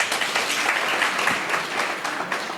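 A crowd in Parakou, Benin applauds at a political speech about electrification. Sustained, dense clapping from many people fills the whole stretch at an even level, moderately close, with no speech on top.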